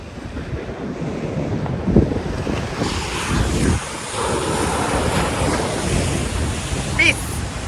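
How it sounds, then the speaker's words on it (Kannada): Ocean waves surge and wash onto the shore at Bhatkal, a broad roaring rumble with several stronger swells, heavily buffeted by wind noise on the microphone. "ಈ ವೇವ್ಸ್ ಎಲ್ಲ ಹಿಂಗೆ ಮುಖಕ್ಕೆ ಹೊಡೆಯುತ್ತೆ ನೀರೆಲ್ಲ"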